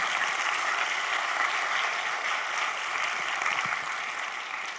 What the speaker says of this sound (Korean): 우리 김영 목사님한테 감사의 박수 한번 부탁드리겠습니다